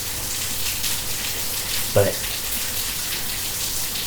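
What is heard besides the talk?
steady rain falling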